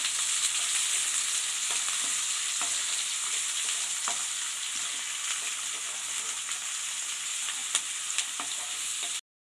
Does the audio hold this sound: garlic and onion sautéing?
yes